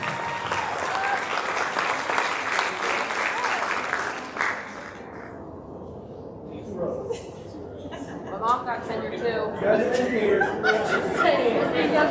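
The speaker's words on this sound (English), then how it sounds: "big round of applause for all of our tenure recipients here" A school district board meeting audience applauds tenure recipients with dense clapping that fades after about four seconds, giving way to chatter, chuckling and laughter among the crowd.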